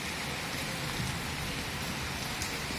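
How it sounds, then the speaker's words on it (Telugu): Heavy rain falls in a steady, dense hiss that stays the same loudness throughout, with no voices. "ఈరోజు రైను ఫుల్ వస్తుంది"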